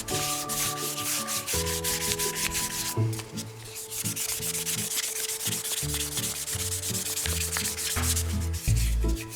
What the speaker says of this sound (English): Just removing any wee swirls left with the 320 grade sandpaper